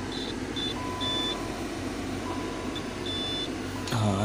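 Thin electronic alarm beeps chirp in short, scattered bursts during an ignition check on a 2003 Nissan Maxima, faint against a steady low hum, with a brief louder clunk at the very end.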